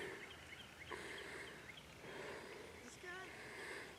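Wild turkeys gobbling in the distance, several faint bursts rising over a quiet outdoor background during a hunt.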